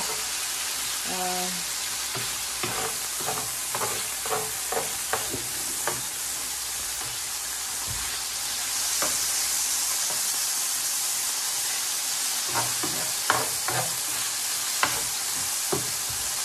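Beef steak strips for fajitas browning in a hot frying pan: a steady, loud sizzle runs throughout, with scattered clicks and scrapes of stirring and faint voices in the background.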